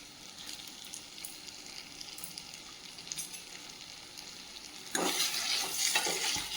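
Tomatoes sautéing in a pan for chutney give a quiet, steady sizzle with soft stirring scrapes, then the frying grows suddenly louder and brighter near the end as the pan is worked more vigorously.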